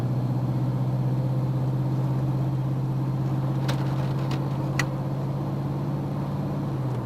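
A car with a 4L60E automatic transmission drives under light throttle through its upshifts, a steady low engine drone running throughout with a few faint ticks near the end.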